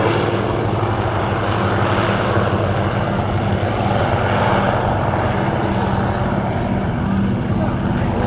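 Battle of Britain Memorial Flight aircraft flying at the RAF Cosford Airshow, a loud, steady propeller-engine drone that holds throughout with no break.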